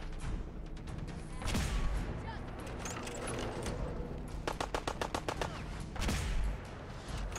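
Gunfire in the video game Fallout 4 in survival mode, fighting bandits: heavy single shots boom out, then a rapid burst of evenly spaced automatic fire, then another loud blast, all over a constant background rumble.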